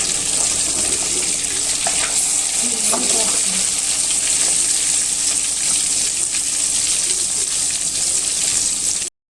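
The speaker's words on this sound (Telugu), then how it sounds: "మనకి ఫిష్ అయితే బాగా ఫ్రై అయిపోయిందండి" Fish fries in hot oil, keeping up a loud, continuous close sizzle with faint crackles for several seconds before cutting off abruptly.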